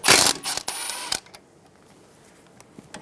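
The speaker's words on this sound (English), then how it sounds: "Using a 12mm socket, remove the bolt for the ABS and brake line brackets." A 12mm socket wrench working a bolt on the ABS and brake line bracket of a 2007-2011 Toyota Camry, a quick burst of close metallic ratcheting clicks that stops after about a second, followed by near silence.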